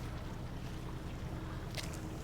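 A sailboat crossing open water to the small Ionian island of Antipaxos, with steady wind and hull-and-water rush filling the whole stretch and a brief brighter splash near the end, no voices.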